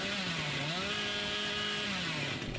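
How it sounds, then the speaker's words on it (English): Hillbilly's chainsaw revving steadily in the Dead by Daylight video game, a continuous buzzing engine drone with a rising and falling pitch, loud and close throughout without any talk. "he's revving his chainsaw, the survivors are going to know that it's him"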